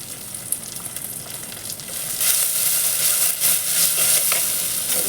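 Onion, garlic and tomato sautéing in a pan, a steady close sizzle that swells louder partway through and holds with faint stirring crackles, no voices.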